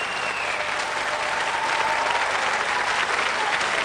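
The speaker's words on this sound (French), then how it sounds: "Applaudissements de la salle sur les deux candidats." A studio audience at a French-language quiz show final applauds two contestants with even, sustained clapping that fills the hall, steady and moderately loud.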